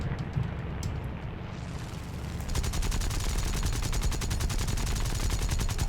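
Aircraft cannons in the War Thunder video game open up in a loud, rapid stream of shots after a couple of seconds of engine drone, firing continuously to the end.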